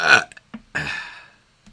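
A single loud, close burp rolls out, then trails off into near silence.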